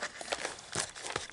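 Opening the first booster box, with quiet close crinkling and tearing of wrapping in a few short bursts.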